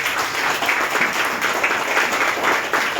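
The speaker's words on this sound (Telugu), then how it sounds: "చప్పట్లు కొట్టండి ఒకసారి వేసేది." A church congregation at an Easter service claps together in a steady, dense burst of applause that fills the room evenly throughout.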